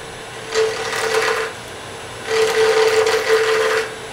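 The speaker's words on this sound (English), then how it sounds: "this is the planing cut to get rid of the corners and get this thing nice and square" A wood lathe takes a planing cut to square up a turning blank, two sustained bursts of gouge-on-wood cutting over a steady motor hum, loud and close with a short quieter gap between them.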